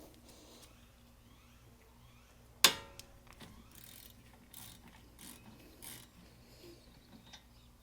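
A ratchet breaks loose a brake caliper bolt on the front of a Hyundai Santa Fe, giving one sharp crack followed by faint scattered clicks and low workshop background.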